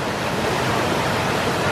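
Thác Hiêu waterfall in the low-water season sends up a steady, even rush of falling water, broad and continuous throughout, with no voices.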